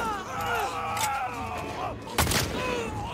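Colt pistol gunfire in The Last of Us Part II, booming shots over a busy, reverberant game soundscape, one sharp blast standing out near the end.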